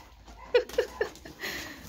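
Three-week-old puppies give three short, high yips in quick succession, close by, followed by a softer whine.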